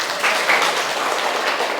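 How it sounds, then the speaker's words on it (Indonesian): A classroom of students applauds together after reciting a pledge: a brief burst of clapping at moderate distance, steady and fairly even, fading slightly toward the end. "Kasih tepuk tangan semuanya"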